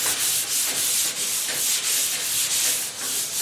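Sandpaper rubs steadily back and forth across a surface being prepared for painting, a close, continuous rasping scratch with a regular stroke rhythm and no voices.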